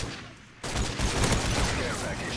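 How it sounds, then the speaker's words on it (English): MK14 rifle fire in Call of Duty MW3, a dense loud burst of gunshots cutting in suddenly after a quieter stretch and continuing as a rough, crackling barrage. "Gotta have that MK14 burst power"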